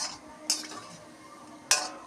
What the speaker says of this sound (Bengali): ভাজা হয়ে গেছে, এবার তুলে নেব